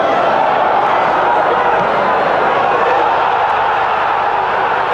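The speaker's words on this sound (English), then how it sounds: "In front of the visiting supporters, Daniel Discio milks the applause for his equalising goal." Visiting football supporters roar and applaud a goal at a Swindon Town match in the 1996/97 season, a loud, continuous, distant crowd wash with no breaks.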